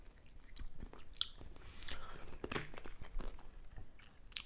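Someone bites into and chews a sour American snack up close, with crisp crunches and wet chewing at an uneven pace, plus a few small clicks and shuffles in the background.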